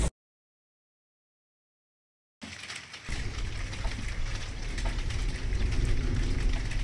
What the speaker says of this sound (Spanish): Llueve, lo suficiente como para que hoy no pueda pintar